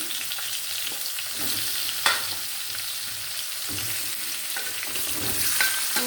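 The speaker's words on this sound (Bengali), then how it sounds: "পটল, মিষ্টি কুমড়ো, বেগুন, আলু, এগুলো সব একটু লাল মির্চ, এগুলো সব ভাজতে হবে" Pointed gourd, pumpkin, eggplant and potato pieces with a little red chili fry in a pan, a low constant sizzle with a few sharp stirring clanks and scrapes of the spatula.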